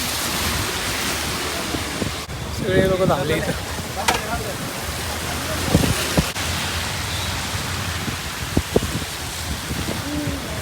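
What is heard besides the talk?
sudden heavy rain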